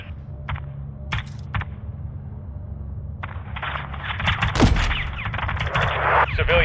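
Cannon fire in the video game GTA 5 sounds as repeated sharp blasts and bursts over a constant low drone, a loud rolling explosion near the middle, with a brief game voice between shots.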